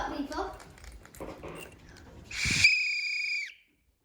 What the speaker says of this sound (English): Whistle to alert people.